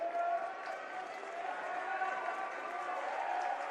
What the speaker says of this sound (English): Aslan Nolan cutting down the nets as he gets a loud cheer from the crowd